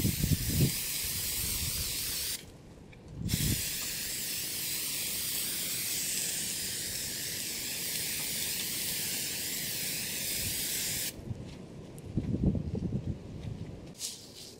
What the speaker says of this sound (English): I can hold on to this and get it sprayed really good